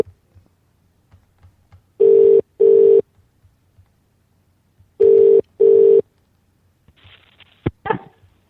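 Two pairs of loud ringback tones pulse on a phone line as a call to Glasgow is placed, followed by a brief clatter and a click of the receiver being picked up, with no talking.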